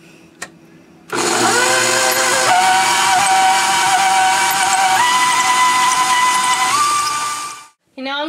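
An electric mixer beating whoopie pie batter, a loud steady whirring drone that shifts pitch slightly as it runs, starting abruptly and cutting off near the end, close and without talk.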